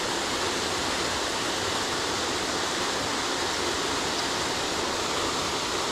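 A waterfall on the Mayo River in North Carolina roars in a constant, dense rush of white noise, loud and close, with no voices.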